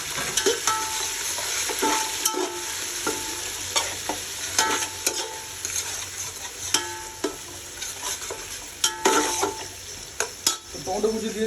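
Chopped tomatoes being sautéed in a pan for pudina chicken biryani, with a constant sizzle and repeated scraping, knocking strokes of a spatula against the pan, close and fairly loud with no voices.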